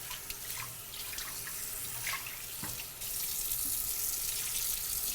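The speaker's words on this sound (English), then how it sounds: "let's rinse it off" A salmon fillet is rinsed under a running kitchen tap, water splashing steadily into the sink with a slight change in flow partway through, close and fairly quiet with no talking.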